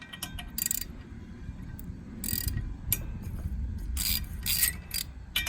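A ratchet wrench loosens the 15mm nuts holding the cooling shroud on a BlackHawk Titan 210 paramotor, giving short bursts of rapid clicking separated by pauses and light metallic handling, close up with no voices.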